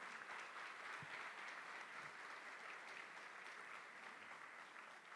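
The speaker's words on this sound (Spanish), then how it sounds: "denle un aplauso al Señor" A church congregation applauds at a Spanish-language service, a sustained, even wash of many hands clapping from start to finish, heard from a slight distance.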